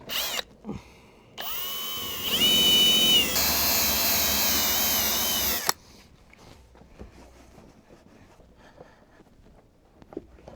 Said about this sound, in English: I'm just gonna grab my eraser wheel and erase this off because I know that works